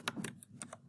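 A few quick keystrokes on a computer keyboard while a color code is entered in design software, sharp close clicks in a short irregular burst with a soft voice barely present.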